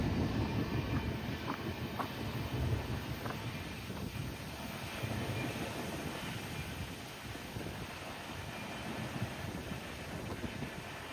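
CSX freight train rolling past on the tracks near a small private crossing, a steady nearby rumble of rail cars with faint clickety-clack and wind noise throughout, no voices.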